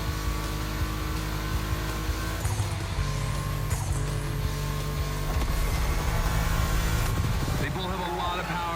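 A 1990 Audi Coupe Quattro with a big turbo, tuned past 800 horsepower, roaring in a gymkhana stunt game, its engine droning loud and steady throughout with shifting revs while someone talks over it.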